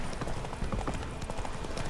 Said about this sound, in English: Horses on roads.